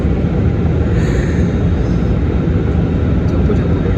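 An airplane on its flight out of Hyderabad bound for Delhi, its engines giving a loud, continuous roar that holds steady throughout, with no break in the noise.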